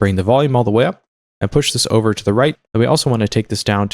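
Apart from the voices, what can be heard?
None of the usual background noises is heard.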